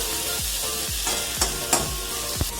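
Tomato paste is stirred in a pan over a medium flame with a steady sizzle and hiss, while a utensil scrapes and taps the pan at irregular intervals.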